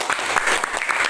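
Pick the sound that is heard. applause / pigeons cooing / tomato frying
applause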